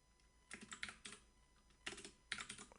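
Fast clattering keystrokes on a computer keyboard come in short bursts with brief pauses between them, close and fairly quiet.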